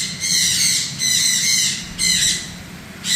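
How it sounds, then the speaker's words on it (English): Chirpy birds squawk in a zoo tropical house, bursts of loud shrill calls repeating about once a second, fairly close, with no talk. "Except for the chirpy birds."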